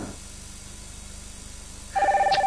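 A telephone in a TV advert starts ringing after a quiet stretch, a loud electronic trilling ring that comes in near the end and pulses steadily.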